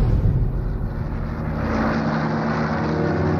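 Hawker Typhoon fighter-bomber attacking German positions, a loud, steady propeller aircraft engine roar that swells and holds close for several seconds.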